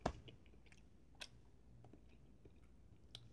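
Someone chews cheese close up during a taste test, with soft, wet bites and clicks that come intermittently over a quiet background and no speech.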